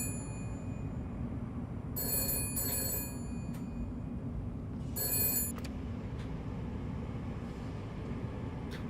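A telephone rings in the video game Shadows of Doubt, with two bright bursts of ringing over a steady low hum of ambient game background.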